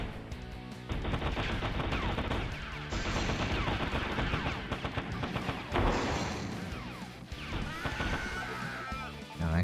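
Squad units open fire in the retro tactical video game Dog Duty, with dense rapid gunfire bursts over busy game music and effects, steady and loud throughout with talk mixed in.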